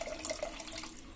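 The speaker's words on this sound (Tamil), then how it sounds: "5 டம்ளர் தண்ணி ஆட் பண்ணிட்டேங்க." Water poured into a pressure cooker while making sweetcorn pulao, a faint, short splashing trickle with a few brighter droplet splashes, heard alone at low level.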